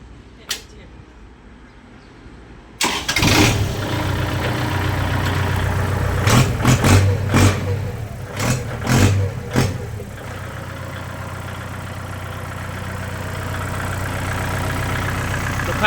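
Engine of a used L4708 with its old exhaust pipe removed, quiet at first, then cranking and catching at about three seconds before settling into a loud, steady close idle with a few brief revs.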